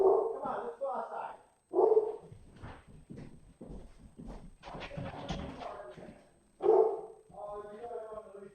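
A dog gives several short barks and yips in irregular bursts, close and fairly loud, alternating with a person talking to it indoors.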